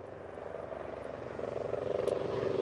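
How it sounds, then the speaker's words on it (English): A helicopter's rhythmic rotor thump drones overhead in Auckland, growing louder toward the end, with no talking. "Oh, helicopter."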